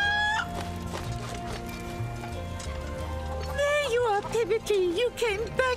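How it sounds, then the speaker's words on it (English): A chicken in Final Fantasy VII Rebirth gives a run of wavering clucks toward the end, loud and close, over busy game music and effects. "Why don't we just pick this chicken up and bring it home?"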